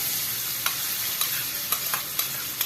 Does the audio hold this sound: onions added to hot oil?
yes